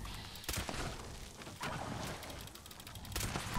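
Gunfire from an Anti Armor Explosive Pipe Rifle in Fallout 76, with sharp explosive shots at a slow rate, strongest near the start and middle, over steady background noise.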